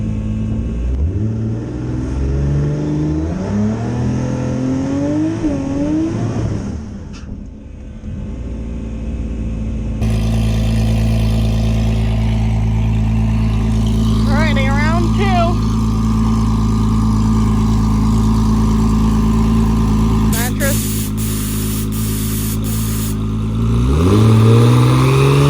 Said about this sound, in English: I'm gonna try to do a bigger burnout.